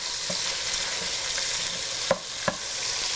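Ground meat with chopped garlic sizzling steadily in a pan while being broken up, a constant frying hiss punctuated by a couple of sharp utensil scrapes and taps, no talking.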